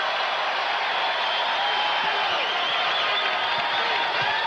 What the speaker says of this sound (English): Now the crowd making some noise in the Target Center